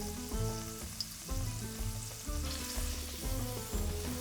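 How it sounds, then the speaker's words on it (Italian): Garlic frying in a pan, a soft, steady sizzling hiss running under loud background music throughout. "l'aglio si sta imbiondendo"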